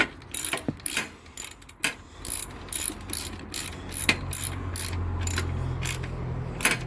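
Ratchet wrench tightening fusebox bolts on a 1994-2001 Acura Integra, giving irregular bursts of sharp clicking pawl ticks with short pauses between strokes, close up and without speech.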